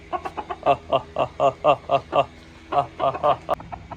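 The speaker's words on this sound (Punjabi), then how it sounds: "ਮੁਰਗਾ ਮੁਰਗੀ ਆਪਣੇ ਬਾਹਰ ਨਿਕਲੇ ਸੀ" A rooster and hen cluck close by in a quick run of rhythmic bursts, pausing briefly, then resuming in another short series.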